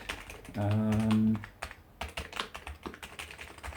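Fingers clack across the yellowed keys of an old Amiga 500 computer keyboard in a quick, uneven patter of close, fairly quiet clicks, preceded by a brief steady hum.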